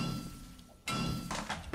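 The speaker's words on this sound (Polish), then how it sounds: "To rozwalam chemistry station." A chemistry station is smashed in the video game 7 Days to Die, giving a sudden heavy thunk followed by a second burst of crashing, breaking impacts, loud and close with no talk.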